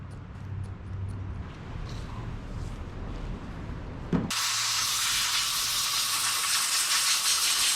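Spray lubricant blasted onto a stuck part of an old abandoned U-Haul mini box truck, a sharp clank and then a loud, steady hiss of aerosol, close up, after a quieter stretch of rustling work noise.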